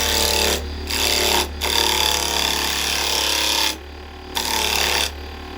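Red carbide chisel cutting wood on a lathe while turning a three-cornered lidded box, loud continuous scraping and whirring in several long passes, broken by short pauses with only the lathe's motor hum between cuts.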